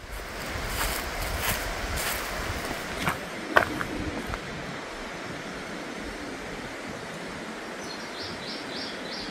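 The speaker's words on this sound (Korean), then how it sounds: "들리는 건 물소리와 새소리뿐이네요" Water rushes steadily and evenly in a deep mountain forest by a valley stream, with a few faint bird chirps near the end.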